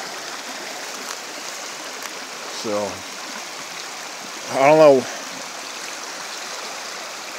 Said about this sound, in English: it's a lot of spring-fed streams that come through here